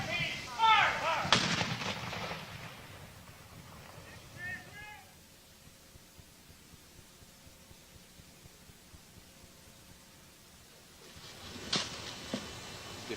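A cannon fired during an artillery drill booms loudly near the start, followed by shouted commands and a long decaying rumble, then a second heavy blast near the end.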